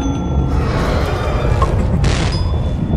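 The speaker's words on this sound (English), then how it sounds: "Why'd you flashbang?" A flashbang grenade explodes in Lethal Company, a dull boom followed by a burst of bright hiss and a ringing high tone, heard close and loud with no voices.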